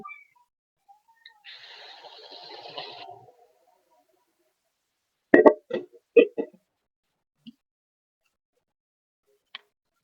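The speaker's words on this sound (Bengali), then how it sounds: "তো আমি গরম জল করে রেখেছিলাম, তা আমি এই গরম জলটা এর মধ্যে দিয়ে দিচ্ছি" Hot water poured into frying khichuri in a pan, giving a short hissing sizzle burst of about two seconds. Afterwards a few sharp clicks and knocks follow in otherwise near silence.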